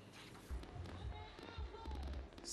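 Fireworks burst over Bouaké for the New Year 2017–2018 celebration, with repeated deep booms and thuds under a steady crowd-like wash, at moderate distance.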